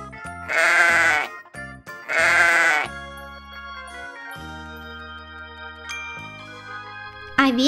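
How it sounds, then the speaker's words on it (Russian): A sheep gives two loud, drawn-out bleats in a children's animal cartoon, each about a second long, with bright jingly music playing between and after them. "Овечка."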